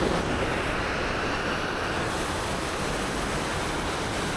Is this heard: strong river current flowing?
yes